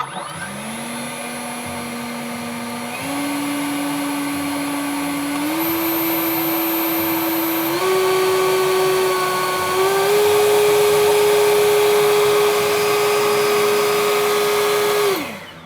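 A battery-powered EGO 56V commercial leaf blower whirs loudly and alone, its pitch climbing in distinct steps as the variable trigger is squeezed harder, then cutting off abruptly at the end.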